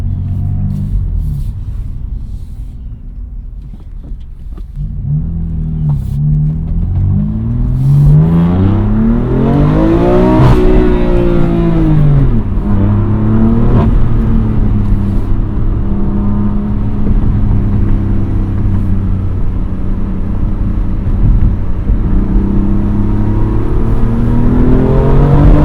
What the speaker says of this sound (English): Gotta get the exhaust warmed up first.